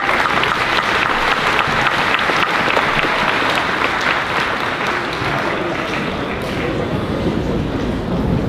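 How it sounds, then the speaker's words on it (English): Loud, dense applause from an audience at a school's fifth grade moving-up ceremony, a continuous roar of many hands clapping that stays strong for the whole stretch and thins only slightly near the end. "another round of applause."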